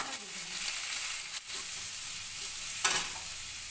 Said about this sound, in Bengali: পেঁয়াজটা দিয়ে দিলাম, পেঁয়াজ কাঁচা লঙ্কা দিয়ে দিলাম।